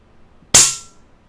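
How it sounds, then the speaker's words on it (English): One sharp crack from a PCP airgun fitted with a moderator, short and close, with a quick fading tail in an otherwise quiet setting. "And here we go, 3 shots."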